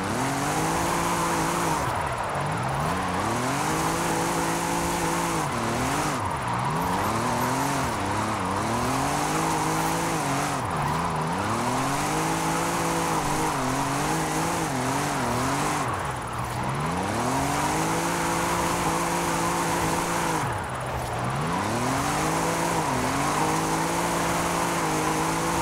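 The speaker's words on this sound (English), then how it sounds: "I was just taking my time down through here with second gear" A 1982 Volkswagen pickup with a rear-wheel-drive drift tune runs continuously in second gear, its engine droning loud and close with repeated rises and dips in pitch as the throttle comes on and off, tyres squealing now and then, with no talking.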